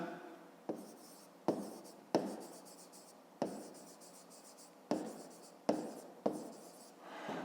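Pen on paper while working a math exercise, a series of about eight distinct scratchy strokes in an uneven rhythm, close and fairly quiet, with no talk heard.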